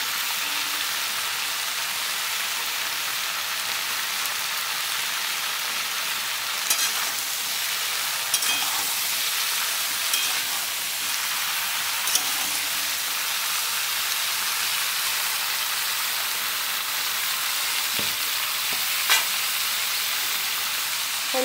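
Ridge gourd with salt and turmeric for a vegetarian Malabar spinach dish fries in a pan with no water, a long even sizzle like rain, with occasional scrapes and knocks of a spatula stirring, close by and without voices.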